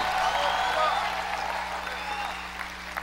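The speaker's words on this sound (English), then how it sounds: "Clap your hands and shout for one second." A church congregation claps and shouts together in a steady, dense wash of applause and raised voices that fills the whole moment at fairly close range.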